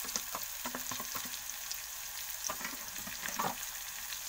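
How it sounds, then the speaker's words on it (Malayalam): Ginger garlic paste and tomatoes frying in a pan while being stirred, a steady quiet sizzle broken by scraping and tapping of the spoon, close up and with no voices. "എല്ലാം കൂടെ ചേർത്ത് നല്ലതായിട്ട് ഒന്ന് ഇളക്കി കൊടുക്കാം."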